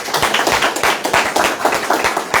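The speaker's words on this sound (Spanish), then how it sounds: "y un aplauso para él, por favor." An audience at an academic talk on Peruvian foreign policy claps for the speaker, a lively close patter of individual hands with distinct rhythmic slaps over a thinner wash of applause.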